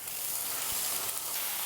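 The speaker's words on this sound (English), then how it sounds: "This is one of my favorite things to do is listen to pancetta or bacon cook." Pancetta or bacon sizzling in a pan while cooking, a steady close crackling fry with fine spattering pops and one soft clunk, with no talking.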